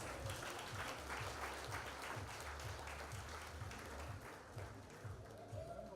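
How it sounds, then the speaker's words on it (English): A rugby union awards night audience gives a round of applause, a steady, dense patter of many hands clapping that holds evenly throughout at moderate distance, with faint crowd murmur beneath. "Let's give her a round of applause."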